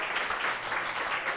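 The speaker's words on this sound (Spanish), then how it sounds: "aplaudamos tu suerte" A short burst of dense clapping from an audience at a game jam event, a brief steady wash of applause with no pause.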